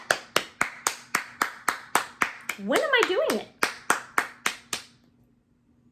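Hands clap sharply about fifteen times at a steady, even pace, close and crisp; a person speaks briefly in the middle while the clapping continues, then the claps stop and the clip falls silent.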